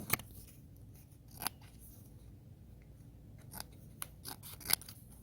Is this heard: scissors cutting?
yes